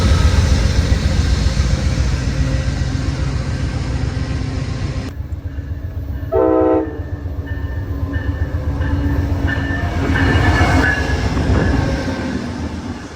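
Amtrak Maple Leaf passenger train to Toronto, led by a P42DC diesel locomotive in Phase 7 livery, roars past loudly and close with rumbling wheels, rhythmic clickety-clack and brief squeals, alone without voices.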